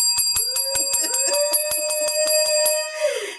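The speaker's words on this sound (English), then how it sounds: "let me hit my bell" A small bell is struck over and over in a fast, steady rhythm, bright metallic rings piling up under a sustained tone that fades at the end.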